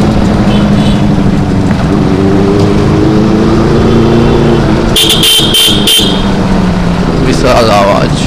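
Benelli 600i motorcycle with an SC Project exhaust, its engine a loud continuous drone with rising revs, briefly broken by sharp bursts and a passing horn-like whine near the end, under people talking.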